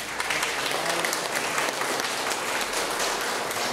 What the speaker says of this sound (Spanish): Damos un fuerte aplauso a don Abraham y a doña Virginia.